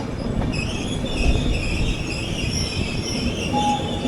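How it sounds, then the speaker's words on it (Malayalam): A Mumbai Harbour Line suburban train rumbles past close by, steady and loud, its wheels squealing and clattering along the rails. "ഇപ്പോൾ ഈ എക്സ്ട്രീം റൈറ്റിലുള്ളത് ഹാർബർ ലൈൻ ട്രെയിനാണ്"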